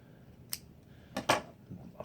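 Two or three sharp, brief snips of scissors cutting a length of serving cord while making string puffs or silencers, with a clear pair of cuts near the end, close and fairly quiet against a low room hum.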